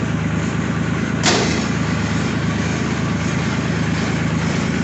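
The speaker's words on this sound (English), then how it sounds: "I'll engage the snowblower there." A snowblower engine runs steadily with the auger engaged during a winter storm on PEI. The motor drones loud and close with a constant hum, and one brief sharp knock comes early on.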